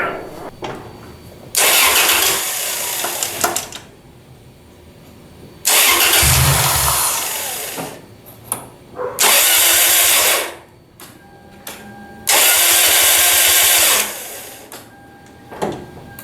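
A Toyota Celica with a swapped 2ZZ engine cranks in four long, loud, close bursts with short pauses between them, sputtering and straining to start.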